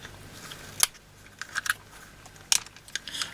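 Cutters snip and crack open the plastic box of an LED fairy light set, making a few sharp, close snaps and crunches spaced irregularly over a quiet background.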